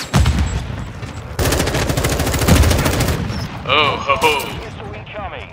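In Call of Duty: Modern Warfare II, an artillery strike called in with a laser designator unleashes a loud, rapid barrage of booming blasts that roll on for several seconds, with a player voice exclaiming over the noise.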